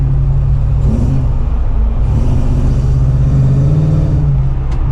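A Toyota 4Runner V8 with a 4-speed automatic, stock axle gearing and 31-inch tires revs to get moving: a loud, continuous deep engine rumble that swells and eases as the revs rise and fall, alone throughout.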